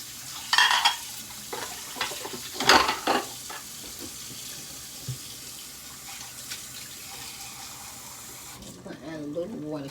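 Water poured into a pot of cooking collard, kale and turnip greens, a splashing, hissing pour in bursts over a sizzling stovetop, close by, with a voice briefly in the background.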